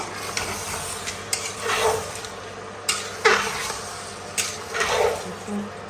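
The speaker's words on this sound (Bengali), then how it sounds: "নেড়ে দেব।" Spices and meat for pulao being stirred in a pot, with repeated scraping strokes of a spatula over a low sizzle, several louder scrapes spaced a second or so apart.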